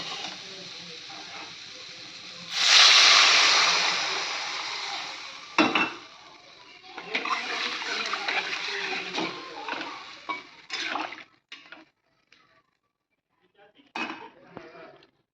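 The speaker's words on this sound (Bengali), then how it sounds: "এবার আমি জল দিয়ে দেবো" Water is poured into a pan of pomfret fish curry, giving a loud rushing hiss for a couple of seconds, followed by clinks and stirring of utensils against the pan.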